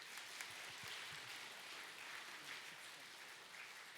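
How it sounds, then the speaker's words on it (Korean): A church congregation applauding together during a Sunday service, giving a sustained wash of clapping that sounds distant and soft throughout, with no speech over it. "축복하는 박수 치겠습니다"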